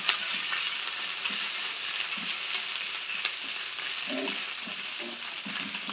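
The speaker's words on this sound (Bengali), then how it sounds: "আদাটা দিয়ে সুন্দর করে ভেজে নিতে হবে, যাতে আদার কাঁচা স্মেলটা না থাকে।" Ginger frying in hot oil makes a steady, fairly quiet sizzle with occasional stirring scrapes and a few small crackles, with no voices.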